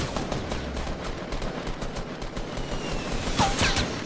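Sustained automatic gunfire in a video game, a fairly distant, continuous rattle of shots that carries on for the whole stretch with a few whistling tones near the end.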